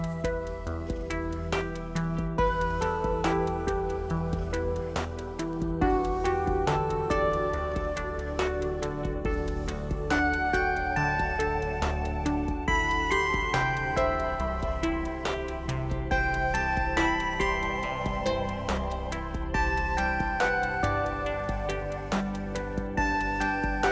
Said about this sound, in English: So I've loaded up a little short ambient piece that I made earlier